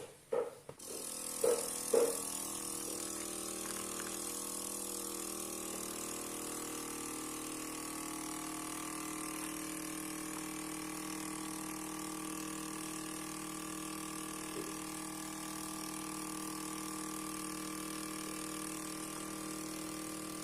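A vacuum sealer packing frozen ready-to-fry fish starts with a few mechanical clunks, then its pump settles into a steady, quiet, droning hum.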